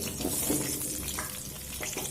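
Potato and papaya pieces fry in hot oil with tempering spices, giving a dense, continuous sizzle that stays steady and close throughout.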